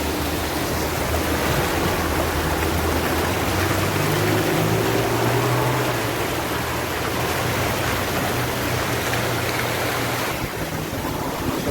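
Steady broadband rush of water pouring down from the hills at Dunn River Falls in Ocho Rios, Jamaica, a continuous dense roar with a low rumble underneath and no voices.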